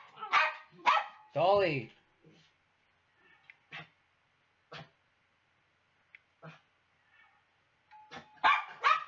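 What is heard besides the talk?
dog barking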